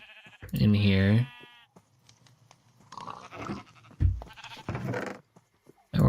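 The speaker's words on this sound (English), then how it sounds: "And we're gonna shear those sheep outside." Sheep bleat in modded Minecraft: one loud, wavering blocky bleat near the start, followed by softer bleats and panting noises, with brief clicks from the game.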